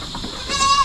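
A goat bleats from close range on a Philippine farm, a short wavering call rising over a faint background murmur in the second half.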